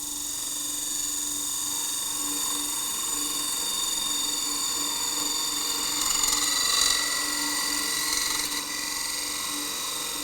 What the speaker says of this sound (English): Just going to use a skew just to clean up this end